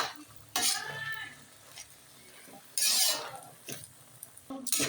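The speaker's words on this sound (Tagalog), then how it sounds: "So yan, ating haluin." Vegetables stirred in a cooking pan for a simple home-cooked lunch dish, giving scraping, sizzling bursts at intervals with quieter frying between them, close and fairly loud.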